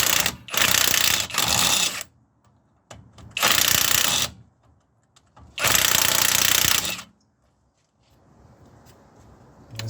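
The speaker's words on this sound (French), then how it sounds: "Moi je vais tenter de l'enlever avec la déboulonneuse et avec la douille de 16." An impact wrench with a 16 mm socket hammers at a shock absorber bolt on a Renault Trafic 2 van, three loud close rattling bursts of about a second each, separated by pauses.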